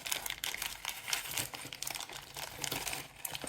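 Close, continuous crinkling of a small plastic bag holding loose unsorted screws for an 8-inch kamikaze drone build, with dense crackly rustles and a few sharper crunches, no talking.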